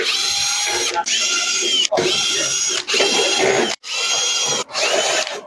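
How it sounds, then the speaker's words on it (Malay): A power screwdriver whirs in six short bursts, close and loud, with brief pauses between, as screws come out of the base of a rice cooker that will not turn on. "So next kita buka dia punya skru ni satu, dua, tiga."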